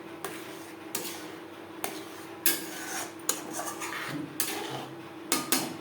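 Semolina mixture being stirred into a pot a little at a time for sujir golap jam, with a metal spoon scraping and clinking against the pan in a steady series of close, moderately loud strokes and no talking.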